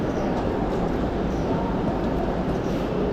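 Steady broadband rumble of a moving Vande Bharat train heard from inside a carriage, continuous and fairly loud, with a faint voice underneath.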